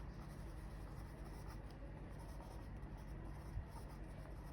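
Marker or chalk writing on a board during a physics lecture, faint scratchy strokes under a steady room hum with no talking.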